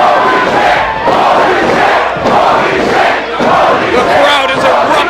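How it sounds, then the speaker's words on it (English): A wrestling crowd at Longboat Hall roars and cheers continuously, a loud, dense wall of voices swelling in waves after a high-flying move. "The crowd is erupted here at the Longboat Hall."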